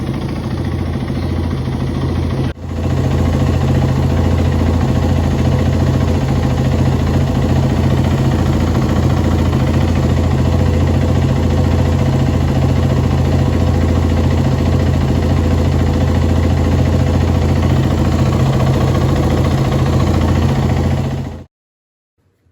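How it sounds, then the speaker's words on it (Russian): A motocross motorcycle engine idles steadily with a low, throbbing rumble for about twenty seconds, close up, then cuts off abruptly. "Демонстрирую на заведенном моторе, как это все работает."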